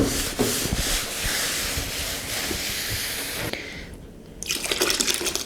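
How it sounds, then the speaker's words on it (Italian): Sponge or rag scrubbing and rinsing a stripped antique wooden furniture piece with ammonia water, a steady close wet rubbing sound with liquid sloshing, a brief pause, then renewed scrubbing. "poi sciacquo bene con acqua ammoniaca"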